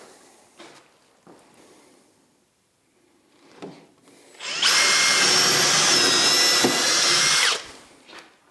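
A power drill drives a short screw from underneath into a wooden batten on a workbench, one sustained high whine lasting about three seconds, preceded and followed by faint workshop knocks and handling noises.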